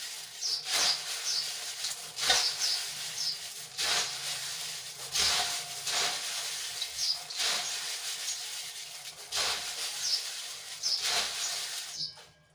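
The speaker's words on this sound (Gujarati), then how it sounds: "થોડી થોડી ચટણી એડ કરતા જઈશું અને હાથ વડે સરસ રીતે મિક્સ કરતા જઈશું" Puffed rice being tossed and mixed by hand with chutney, giving soft rhythmic rustling and crunchy hissing strokes about once a second, close and fairly quiet with no talking.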